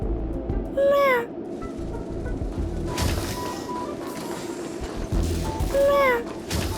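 A cat in the video game Honkai Star Rail meows twice, two clear, rising-then-falling cries about five seconds apart over a soft game ambience.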